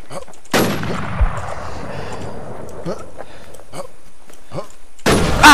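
Gunfire in a PvP survival video game, with a loud blast at the start, a sustained noisy rumble and scattered sharper cracks, then another heavy burst at the end, close and dense.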